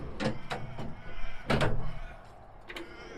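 A few sharp knocks and a sliding scrape as a large storage drawer on an overland vehicle is pulled and pushed shut, close by with no talk.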